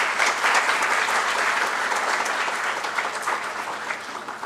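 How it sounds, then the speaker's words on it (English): A large audience at a law event gives loud, continuous applause, a thick even roar of clapping hands that fades slightly toward the end without speech. "Let us have a huge round of applause for Advocate Anant Randive and his firm Randive and Randive Associates."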